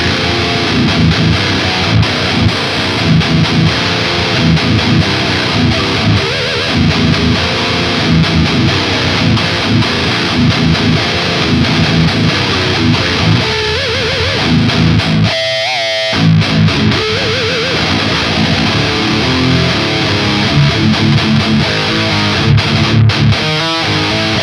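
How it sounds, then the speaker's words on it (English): A Cort KX507MS seven-string electric guitar with Fishman pickups in active voicing, played through heavy distortion: loud, dense riffing with chugging palm-muted bursts and a brief stop in the middle before the riff resumes. "When the volume knob is down fully, it's in the active voicing, which sounds like this."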